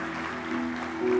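A church congregation breaks into applause at a Portuguese-language worship service, a steady wash of clapping that swells louder toward the end, with a faint voice underneath.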